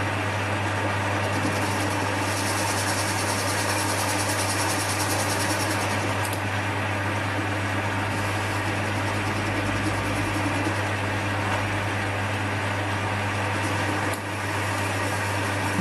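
A small Chinese lathe turns scavenged scrap metal at about 600 rpm on medium feed, giving a steady, unbroken motor hum with a faint cutting hiss, close and constant throughout.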